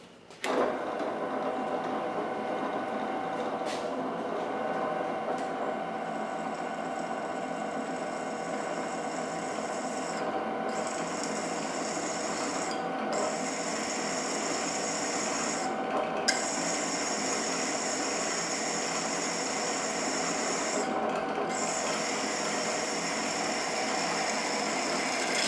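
A Klutch 1-horsepower drill press runs steadily close by, a continuous motor whine with a sustained tonal hum and no talk over it.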